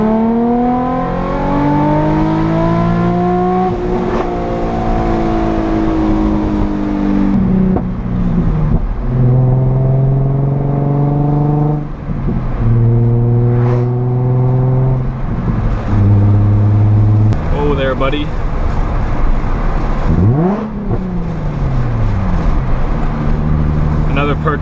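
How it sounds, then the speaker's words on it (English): Nissan 350Z with a Tomei exhaust revs and accelerates through repeated gear pulls, rising engine tones climbing and dropping between shifts, loud and close from inside the cabin with windows down near trees; a voice speaks briefly. "with the Tomei, you're gonna pick up some great volume, not a lot of drone"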